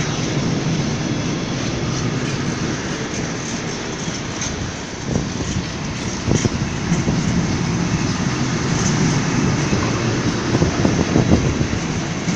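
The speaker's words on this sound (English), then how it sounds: "This is a long ass fucking cargo train, isn't it? Freight train." A long, heavy freight train rumbles past at Cardiff Central station, a dense low roar with occasional clanks and rattles of wagons, loud and continuous throughout.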